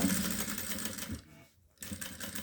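A sewing machine stitching a seam on the reverse side of a fabric toiletry bag, running in a steady close whir, stopping briefly for a short gap before starting again.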